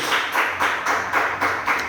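Church congregation clapping in steady rhythmic bursts as an offering of applause to God during a Spanish-language service, the claps blending into a continuous moderately loud patter.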